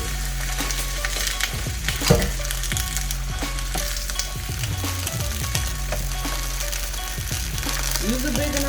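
Beef bulgogi fries in a big pot with a steady, loud sizzle, while scraping and clattering stirs break in at irregular moments.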